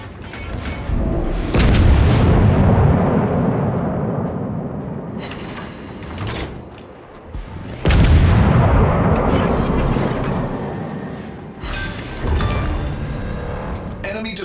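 Naval artillery in World of Warships fires in heavy, loud booms, each followed by a long rumbling roar that slowly fades, with two big salvos several seconds apart and smaller reports between.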